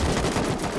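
Rapid bursts of gunfire crackle in quick succession, loud and dense, like automatic weapons firing in the video game Rust.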